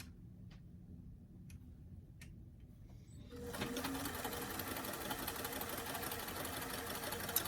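A sewing machine stitches a seam on a small doll t-shirt, starting with a few back stitches. Faint ticks give way to a steady, close, rapid mechanical whirr that runs to the end.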